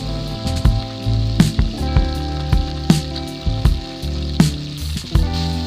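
Hilsa fish heads fry in hot oil with cumin and bay leaf, giving a steady, close crackling sizzle. Frequent sharp pops and taps, likely from stirring or a spatula against the pan, break through it. No one speaks.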